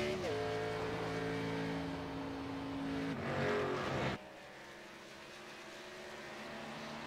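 A Chevrolet stock race car in qualifying roars past with a loud sustained engine note that shifts in pitch as it goes by, then cuts off abruptly to quieter background noise.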